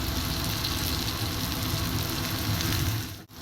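Spices sizzle in a pan with ginger, red chilli powder and Kashmiri chilli powder while being sautéed for chhana kofta, a steady dense frying hiss that cuts off briefly near the end.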